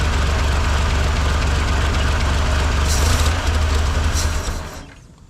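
A 1958 Lull cherry picker, restarted after sitting for 15 years, runs with a loud, steady rough engine drone that stumbles and dies away near the end.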